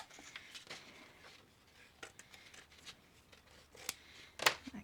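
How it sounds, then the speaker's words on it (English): Scissors roughly cutting a piece of card with glued paper on it, producing quiet scattered snips and rustles, close up and with no talking, ending in a sharper clack. "I'm just going to cut it out roughly."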